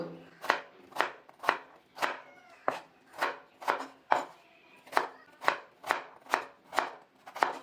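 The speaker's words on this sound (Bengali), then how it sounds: "এবার আমি প্রথমে আলুটাকে কেটে নিচ্ছি ছোট ছোট করে ডুমো ডুমো করে কাটবো" Potato chopped into small cubes with a knife on a board, a dozen or so crisp close knocks in a fairly steady rhythm, alone without talk.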